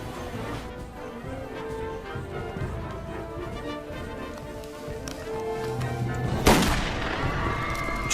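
Gunfire in a dramatized film scene of Ahn Jung-geun's 1909 assassination shooting at Harbin station, heard as one sharp loud crack near the end over a dense, continuous backdrop of music and rumble.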